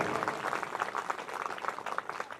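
An audience at a gaushala religious discourse claps in a brief, faint, fairly quick burst, slightly distant.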